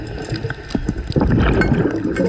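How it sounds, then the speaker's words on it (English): Water sloshes and gurgles close by while a motorboat engine drones steadily in the background. "Hear that boat buzzing around?"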